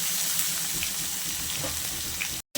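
Chopped onions frying in a pan for a traditional village-style Bengali dish of Katwa stems, giving a steady, close, even sizzle with no talking that cuts off briefly near the end.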